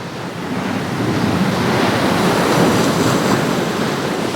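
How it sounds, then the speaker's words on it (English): Ocean waves break against the shore in a steady, loud, continuous wash of surf with no pauses and no voices. "one sees the waves breaking and"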